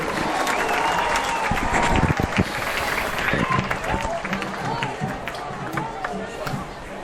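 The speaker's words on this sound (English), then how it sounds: "let's have one more big round of applause for these outstanding coaches from Danvers High School" A crowd at a Danvers High School football game against Winthrop applauds steadily for several seconds, with a voice speaking over the clapping and cheering.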